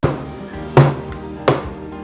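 A cake tin half filled with batter is rapped against a counter twice, two sharp, close knocks spaced under a second apart over a quiet background, with a faint softer tap at the start.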